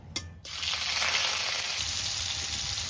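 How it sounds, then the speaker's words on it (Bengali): Shrimp dropped into hot mustard oil in a wok, a brief clatter and then a loud, steady close sizzle of frying that holds for a few seconds. "কেটে ধুয়ে বেছে রাখা চিংড়ি মাছ এবার দিয়ে দেবো।"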